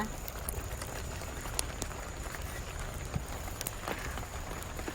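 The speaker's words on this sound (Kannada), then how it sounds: "ಕಣಿಲೆ ಹಾಕಿದ ಮೇಲೆ ಒಂದು ಎರಡು ನಿಮಿಷ ಕುದಿ ಬರಲಿ" Bamboo shoot curry bubbles in a pot over a low flame, a faint, close, continuous popping and crackling simmer without voices.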